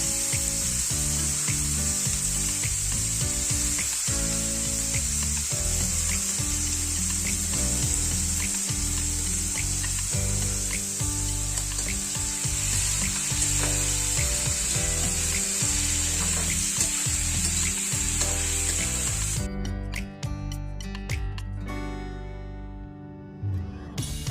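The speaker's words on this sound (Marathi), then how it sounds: "त्याच्यामध्ये ते कोलंबी टाकायची. थोडंसं परतून भाजी पण खूप टेस्टी होते कोलंबीची." Fresh prawns sautéing in a pan for a Malvani-style prawn dish, a continuous dense sizzle with repeated scraping knocks of a spatula, then a brief quieter stretch near the end.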